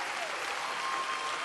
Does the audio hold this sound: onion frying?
no